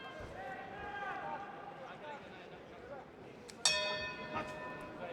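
A boxing ring gong starts the round at a boxing tournament, with a single sharp metallic strike ringing out and decaying, over crowd murmur and commentary.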